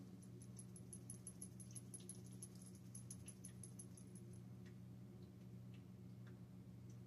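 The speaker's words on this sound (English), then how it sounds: "my dog was scratching herself." A dog scratches herself, producing a rapid, evenly spaced ticking or jingling that runs for about four seconds, then a few scattered faint clicks, all quiet and close.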